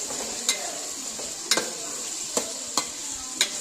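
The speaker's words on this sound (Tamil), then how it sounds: "இந்த 2 பெரிய வெங்காயம் போட்டு நல்லா வதக்கிடுவோம்." Two large onions sauté in a pan for Chettinad chicken gravy: a steady sizzle broken by five sharp spoon knocks against the pan at irregular intervals, close and without voices.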